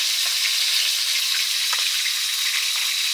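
Pieces of silver carp fish fry in hot oil for a fish curry with eggplant, making a steady, dense sizzle that runs unbroken throughout, with a few faint pops and crackles rising above it. No one speaks.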